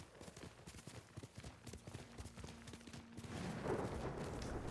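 Horse hooves clip-clop at a steady galloping rhythm in the video game Ghost of Tsushima, moderately loud, with the sound thickening and turning noisier toward the end.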